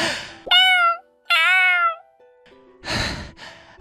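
A cat meows twice, long and plaintive, close by, followed by soft breathy sounds and rustling.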